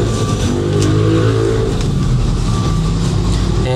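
Mazda diesel engine in an owner-type jeep revving loudly and steadily up close, a deep continuous rumble with a slight rise in the middle and no talk over it.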